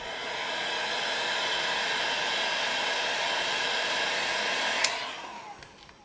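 A hair dryer blows heat over a vinyl skin wrap on a Nintendo Switch, a steady close airy roar that holds evenly, then cuts off with a click near the end and fades.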